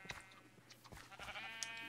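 Sheep in the Minecraft video game give several short bleats in quick succession, fairly faint and close together, over light in-game background sound.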